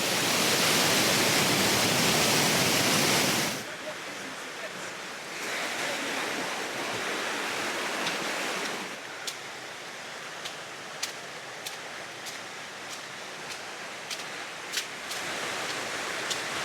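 Loud, steady roar of a waterfall in the Lake District, a constant broadband wash of forceful rushing water that drops in level partway through, with faint clicks on top.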